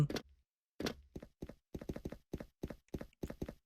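Rapid footsteps in a first-person shooter game (SF) sound close and crisp, a single thud, a pause, then a quick run of about a dozen evenly spaced steps.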